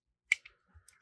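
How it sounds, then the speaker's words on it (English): A small pair of scissors on a multitool snips once with a sharp, close metallic click, followed by a few faint ticks and a soft knock in otherwise near silence. "little pair of scissors for trimming some things."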